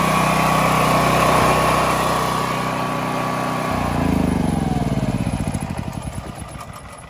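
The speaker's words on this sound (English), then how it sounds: "You guys all still hear another generator?" A generator runs loudly and close for saltwater and freshwater fish tanks, a steady engine drone that shifts pitch midway and then pulses as it slows.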